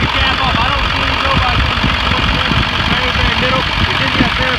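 A 1999 Ford F-350 XLT's 7.3 liter diesel engine idles close by with the oil cap off, a loud, steady knocking clatter and vibration, and someone talks over it.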